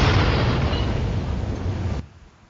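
A massive explosion and fire at a chemical storage tank holding methyl isocyanate, shown in an animated incident recreation, gives a loud, sustained, rumbling roar that cuts off abruptly to near quiet.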